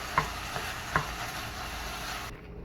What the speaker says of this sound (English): So I'm going to give it a quick stir.